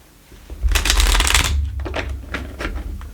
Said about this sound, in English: Shuffle the tarot here.